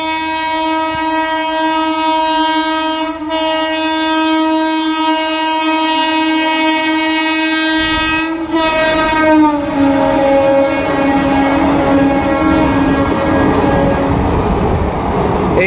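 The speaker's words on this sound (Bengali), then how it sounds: "হাওড়া পুরী গরিবরথ। আপনারা জানেন যে একটা গরিবরথ চলে, যেটা পুরো এসি।" The fully air-conditioned Howrah–Puri Garib Rath train passes close by, sounding a loud, sustained horn blast before its horn fades into a heavy rumble of rolling wagons.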